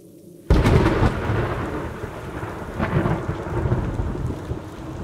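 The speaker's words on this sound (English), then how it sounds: "I can hear the storm." A sudden crack of thunder breaks in, then rolls and rumbles on over steady heavy rain pattering down throughout.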